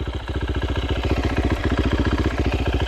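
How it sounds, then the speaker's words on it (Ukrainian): A Chinese enduro motorcycle with a KTM engine idles close up right after starting. The single-cylinder putter is rapid and even, a loud clattering beat with no other sounds over it. "сам звук роботи двигуна дуже нагадує КТМ"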